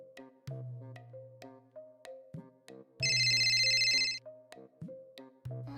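A phone rings in a short, bright electronic burst partway through, set among softer repeating melodic tones, with no voices.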